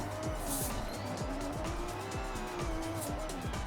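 A car laps a track in the racing video game Forza Horizon 6, its engine droning and revving up and down with repeated gear shifts and tire noise, loud and steady throughout.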